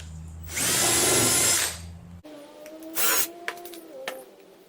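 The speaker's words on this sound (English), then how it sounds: "I'm going to drill the hole and then go ahead right ahead and screw it in" A power drill bores a pilot hole in the wood of a bluebird house, one close, loud whining burst of about a second and a half. Afterward come quieter handling clicks and a short rustle.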